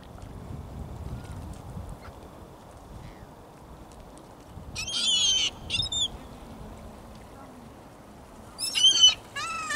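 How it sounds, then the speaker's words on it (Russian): Seagulls call at the seaside in Bolderāja, Riga: a few short, sharp cries come in two clusters midway and near the end over a constant wash of wind and surf noise. "В этом месте очень много чаек."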